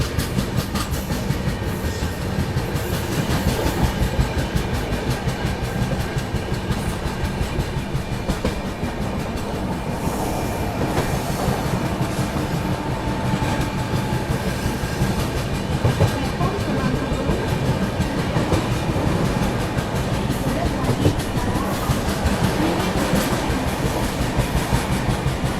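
Rajdhani Express running through Kasara station without stopping, heard from aboard the train as a continuous loud rumble with rhythmic clickety-clack of wheels over rail joints across the whole span, with no voices.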